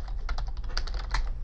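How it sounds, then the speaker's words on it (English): Rapid typing on a computer keyboard with a stuck space key, a dense close run of clicking keystrokes over a low steady hum, with no talk. "my space key is stuck on my keyboard here"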